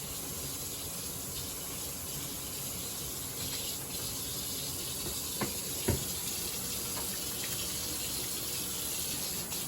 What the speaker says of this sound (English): wash your hands off real good